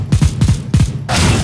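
Gunfire in the video game Counter-Strike: Global Offensive: several quick, loud shots in close succession, then a denser burst of noisy firing at the end.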